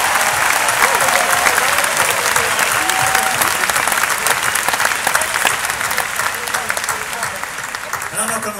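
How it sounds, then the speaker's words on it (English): A large outdoor concert audience at Wolf Trap in Vienna, Virginia applauds a full orchestra, producing a continuous, loud wash of clapping that holds steady and fades slightly toward the close. "Please give them a big applause."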